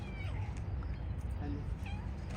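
A cat meows a few short times during a family Onam photo shoot at home, its calls faint and mixed in with people's voices, which may be imitating the meows.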